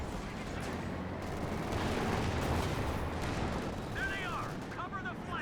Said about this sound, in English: 2 AT guns hit into this unfitted Panzer IV.